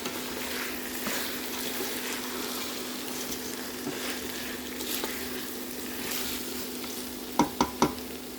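Small rice being stirred into a pot for arroz caldo congee, a steady soft scraping and sizzling churn close by, ending with a couple of sharp clinks of the spoon against the pot.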